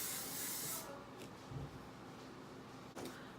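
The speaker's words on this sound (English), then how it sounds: "I'm just gonna spray this bottom layer with hairspray" Hairspray hisses from an aerosol can onto the bottom layer of hair in a single continuous close burst. It cuts off after about a second, and a couple of faint clicks and handling noises follow.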